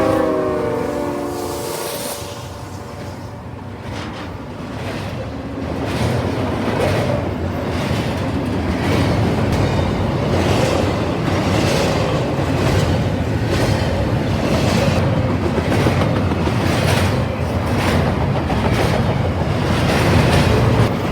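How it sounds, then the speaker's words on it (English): CSX southbound intermodal freight train led by an ES44AH locomotive with an ET44AH trailing, rolling past loud and close, with a horn blast near the start and a steady rumble of wheels on rail throughout. "My next train came at 1:28 p.m. and it was I-137 with CSX ES44AH 882 leading with CSX ET44AH"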